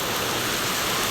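Heavy rain pouring down steadily in a continuous, dense hiss, loud and close throughout, during a storm with lightning, with no voices over it.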